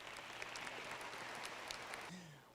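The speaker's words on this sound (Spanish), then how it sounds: "Aplausos para ustedes." An audience claps steadily at a Father's Day serenade, a faint, dense patter of applause that drops away near the end.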